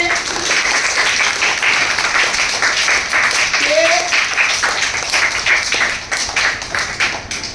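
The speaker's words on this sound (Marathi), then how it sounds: "सगळ्यांनी टाळ्या वाजवा राम सरांसाठी" Steady applause from a group of schoolchildren and teachers clapping for a teacher, dense and continuous throughout with a brief voice rising in the middle.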